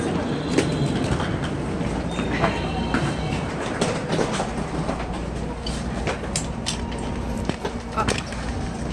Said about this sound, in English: Now our train is above the sea and it's really nice